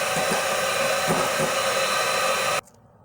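An electric hand mixer beating egg whites with baking powder for cloud bread, a loud, steady whirring roar close by that cuts off abruptly near the end.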